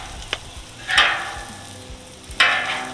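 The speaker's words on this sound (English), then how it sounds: "Just gonna push the onions around in the bacon grease." Onions frying in bacon grease, a steady close sizzle broken by a few scraping pushes of a utensil through the pan, with no voices.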